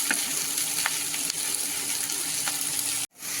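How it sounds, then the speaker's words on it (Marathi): Chopped safflower greens with turmeric sautéing in a pan, a continuous close sizzle with light stirring scrapes, ending in an abrupt cut. "आता छान आपली पाच सात मिनटं छान परतून घ्यायची"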